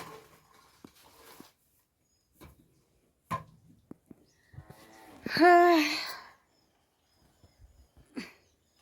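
A single short, low moo from a water buffalo rings out loudly and close by, surrounded by quiet rustling and a few scattered knocks.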